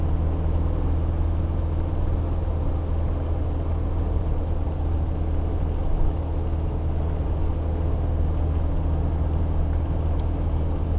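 In 5th gear, a Land Rover Defender D90 turbo diesel cruises with a constant deep engine hum and road noise, loud and even for the whole stretch, with no voices.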